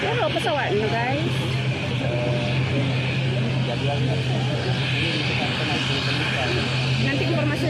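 Engine drone of a subsidized-route aircraft, a steady low hum that runs the whole time under busy crowd chatter and nearby voices.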